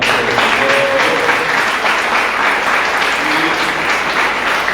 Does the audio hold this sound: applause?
yes